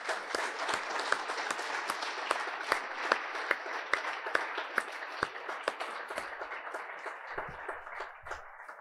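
At the Maison d'Izieu prize ceremony, an audience applauds steadily, with sharp individual claps standing out over a dense layer of clapping that thins toward the end.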